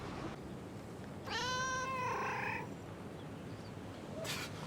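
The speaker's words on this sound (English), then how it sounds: "why is that cat reacting like that?" A cat gives one clear, drawn-out meow, close and distinct over faint background hiss, followed by a brief soft noise near the end.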